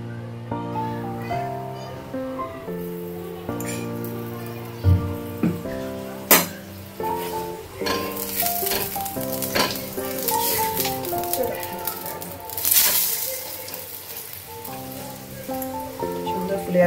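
Paneer paratha sizzling in hot oil on a pan, a steady crackling fry with occasional clinks of a utensil, close and fairly loud under background music.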